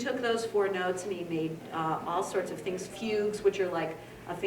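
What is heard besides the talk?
No everyday noises stand out.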